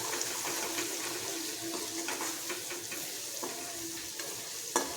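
Steady sizzling of turmeric and garam masala frying in a hot pan for Kathiyawadi sev tameta curry, with occasional scraping stirs and a sharp clink near the end.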